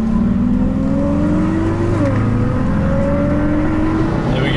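A Cupra car in Cupra mode accelerating hard on the road, its loud engine rising steadily in pitch through the gears with a brief shift dip, close and continuous.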